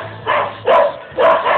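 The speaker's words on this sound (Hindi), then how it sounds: "अगर दूसरा कुत्ता आए तो बस भौंकते ही रहते हैं" Dog barking in a residential spot near a house, three loud, short bark bursts evenly spaced over a second and a half, close by with no talk.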